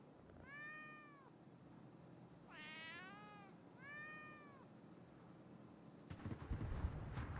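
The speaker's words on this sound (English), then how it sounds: "Do you hear the cat sound when you do the horn?" A ship's horn in a video game that sounds as a cat's meow: three clear, wavering meows spaced across several seconds, followed by a burst of rough thumping noise.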